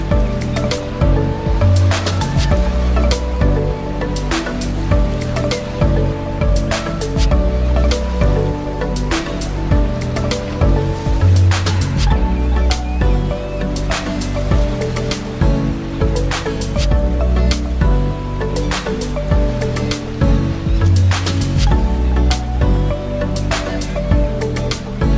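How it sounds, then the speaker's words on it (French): Ocean surf at Chaweng Beach in Thailand, big waves rolling in and breaking in a continuous loud wash with repeated crashing bursts, close and steady throughout, no voices. "Sur cette plage, il y a beaucoup de vagues comme au Brésil."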